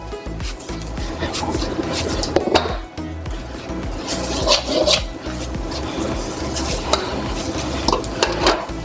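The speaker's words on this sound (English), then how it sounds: "add in your green onions and give your stir fry a toss" Moo shu pork stir fry with green onions tossed in a pan, continuous loud sizzling with busy metallic scraping, clanking and rattling of the wok and utensil throughout.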